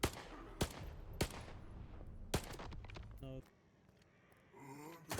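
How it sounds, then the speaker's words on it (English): Gunfire from a zombie enemy near a factory in the video game Stalker 2: sharp single shots spaced about a second apart, then a short rapid burst, with faint game ambience between. "a wild zombie starts shooting at me"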